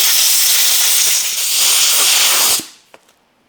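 Compressed air blowing out the parts of an AVE stainless and titanium utility knife, a loud close continuous hiss for about two and a half seconds that cuts off abruptly, followed by a couple of small clicks.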